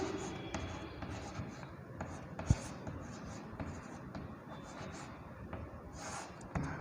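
A pen scratches across paper in soft, steady strokes with occasional taps, close and quiet, while a person speaks in Hindi over it.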